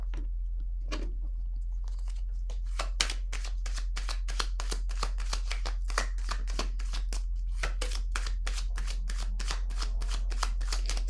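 Tarot cards being shuffled by hand in a steady run of crisp, rapid riffling snaps, close and fairly loud, continuing with little pause and no talk.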